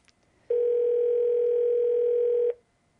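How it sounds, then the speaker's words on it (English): A single steady telephone ringing tone sounds for about two seconds on an outgoing call, clear and close, with quiet before and after. "It's ringing."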